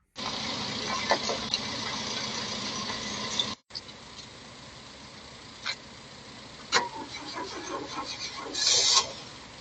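A barn-find Austin Maestro that had not run in 19 years, fed by jumper cables: loud starter cranking, a brief break, then a few sputtering bursts as the engine catches for a split second.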